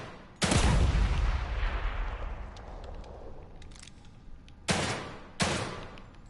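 Gunfire in The Evil Within 2: one loud, close blast whose roar decays slowly, followed later by two more sharp shots in quick succession, with faint clicks between.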